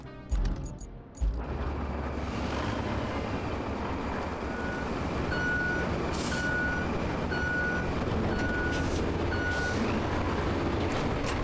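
Truck in the RoadCraft video game parking in reverse, its reversing alarm giving a steady run of evenly spaced beeps over a loud, constant engine rumble, with a sharp air-brake hiss near the start.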